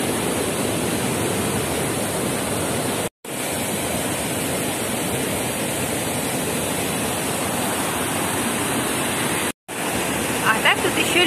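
A waterfall roars steadily from close by at the water's edge, a dense, even rush of falling water broken only by two brief cuts.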